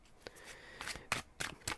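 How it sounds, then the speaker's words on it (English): Tarot cards being shuffled by hand, a series of crisp riffling bursts in quick succession, fairly close and quiet, with no voice. "So I'm going to shuffle the cards."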